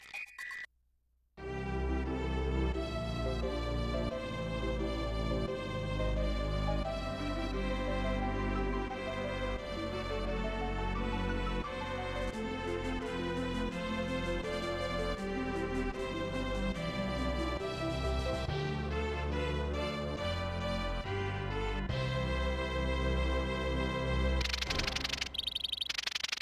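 A composed tune plays in the Super Mario RPG video game, a continuous dense melody of bright notes over a low line, starting after a brief quiet moment and running steadily throughout.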